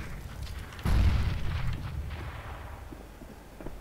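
A single heavy grenade blast booms in a Counter-Strike: Global Offensive match, a sudden loud thud with a rumbling tail that fades over a few seconds.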